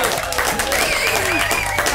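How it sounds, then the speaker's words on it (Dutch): A studio audience applauds a candidate on a dating show, with continuous clapping under a steady, busy backdrop and a voice faintly audible. "Mag ik een applaus voor onze kandidaat Celine?"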